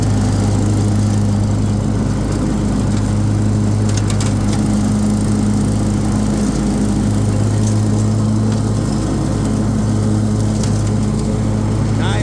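A 61-inch SCAG Turf Tiger commercial zero-turn riding mower runs close and loud, its engine droning steadily as the blades cut grass, with a constant low hum that holds through the whole stretch.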